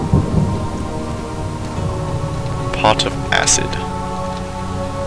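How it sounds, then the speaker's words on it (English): Thunder and steady rain in the Amnesia game play as a continuous backdrop, with a spoken voice over it and a couple of sharp bright clatters partway through. "Listen to the lightning in the background as I create my sciences."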